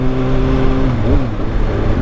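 A Kawasaki Ninja ZX6R motorcycle engine runs close by, a loud throaty drone that rises briefly in pitch mid-way in a quick rev before settling back to a steady idle-like rumble.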